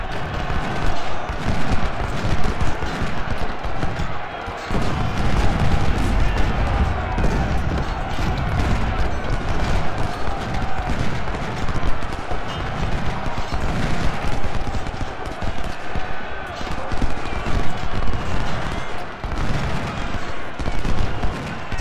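Dense battlefield gunfire from the Civil War strategy game Ultimate General: Civil War at Gettysburg, rapid musket volleys and cannon booms layered into a continuous loud roar, with someone talking in German over it.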